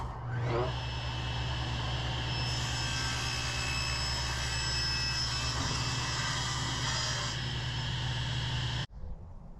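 A wood planer planes boards for a cutting board and tray table, a loud, steady machine roar with a high whine that runs for about nine seconds before cutting off suddenly.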